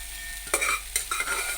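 Spoon stirring cooked rice into fried capsicum in a hot pan, a few close scraping strokes over a soft steady sizzle, with no talking.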